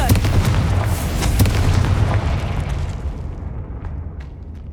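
Fiery spell explosion in the Hogwarts Legacy video game, a loud booming blast with rumbling debris right at the start that decays over several seconds into a faint hiss.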